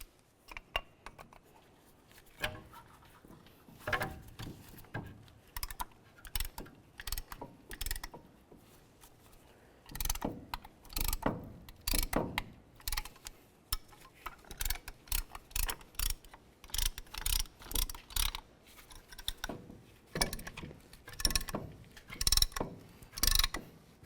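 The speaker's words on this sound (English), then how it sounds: "start compressing the caliper pistons into the caliper" On a 2014-2018 GMC Sierra 1500 brake job, a compressor tool pushes the front caliper pistons back, its ratchet clicking in irregular close bursts that grow denser and louder toward the end, with no talk.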